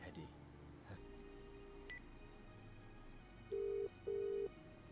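Two electronic telephone ring bursts in an FMV video game, a steady tonal trill sounding twice in quick succession near the end, clear and alone over a quiet room ambience.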